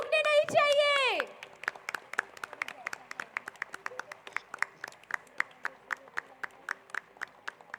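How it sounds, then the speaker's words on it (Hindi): Rhythmic audience clapping continues at a school annual concert after a voice speaks briefly over the PA, then sharp, evenly timed claps carry on alone and grow somewhat stronger. "तालियां रुकने नहीं चाहिए."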